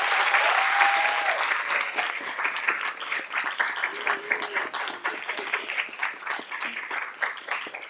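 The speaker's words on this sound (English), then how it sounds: "if you join me in giving me one more round of applause for all of these wonderful students and their hard work" Applause for students at a school board meeting: a steady, full round of clapping from a roomful of people that slowly thins and tapers over eight seconds, with a faint voice briefly heard.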